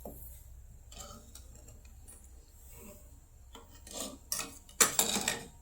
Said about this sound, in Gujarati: હવે તેને હું આ રીતે હલાવી લઈશ